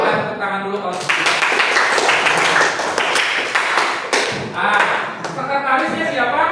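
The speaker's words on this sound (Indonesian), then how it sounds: "Ya, kita tepuk tangan dulu kalau setuju." A school class claps hands together for several seconds, a dense patter of many claps, with voices mixed in.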